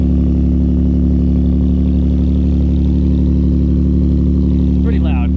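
A Ford Raptor's engine runs loud and steady through its exhaust, a deep continuous idle rumble that holds without pause, with a brief voice near the end.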